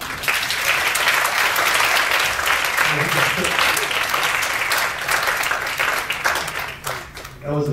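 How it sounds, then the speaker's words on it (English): A business forum audience gives a big, loud round of applause, a thick, sustained wash of clapping that carries on for several seconds with voices mixed in before easing at the end. "Have a big applause, please"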